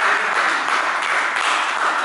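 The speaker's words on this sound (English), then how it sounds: "Can you all give another round of energetic applause" A workshop audience gives energetic applause, dense continuous clapping from many hands filling the room at even strength for a couple of seconds.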